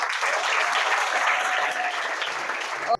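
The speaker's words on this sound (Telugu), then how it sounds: "క్లాప్స్ కొట్టండి అమ్మాయికి" An audience applauds a girl at a police awareness program on helpline numbers, with dense, steady clapping filling the room for about three seconds before cutting off abruptly.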